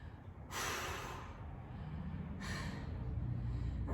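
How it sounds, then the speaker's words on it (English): A person exhales forcefully during a weight workout, two sharp breathy bursts about two seconds apart, each followed by a softer trailing breath, heard close over steady low background hiss. "Breathe out."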